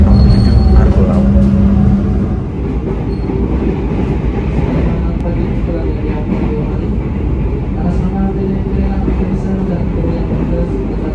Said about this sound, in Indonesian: Yuk kita nikmati perjalanan bersama-sama dari jalur tengah kereta api nomor 7 Argo Lawu.